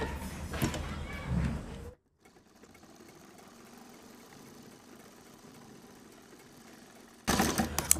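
A freshly oiled sewing machine that had been cutting its lower thread runs in two loud, steady whirring bursts, about two seconds at the start and a short burst at the end, with a quiet stretch between.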